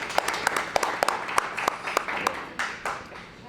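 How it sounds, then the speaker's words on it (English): Audience applause at a candidate forum for a US House of Representatives race, with steady clapping from a modest crowd, sharp individual claps standing out before it fades. "I think you deserve a round of applause"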